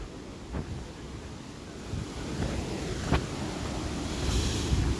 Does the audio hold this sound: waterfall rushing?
yes